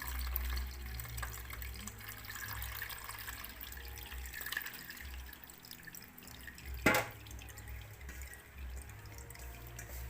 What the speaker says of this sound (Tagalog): Ito yung piniga natin, sinasala ko.